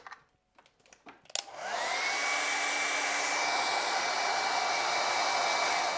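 Close handling clicks give way to a hair dryer switching on and roaring steadily as it dries a watercolor painting, a loud constant whine with no talking.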